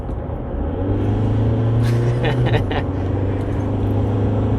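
An Isuzu D-MAX Extended Hi-Rider automatic 4x4 pickup engine rumbles low and steady, then revs up as it accelerates, with some brief clatter midway; close and fairly loud.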